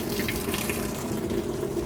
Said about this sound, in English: Why is there water coming out of there?